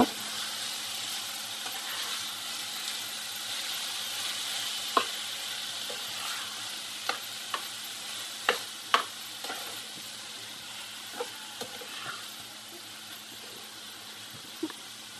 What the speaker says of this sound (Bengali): কিছুক্ষণ আমি ভেজে নিব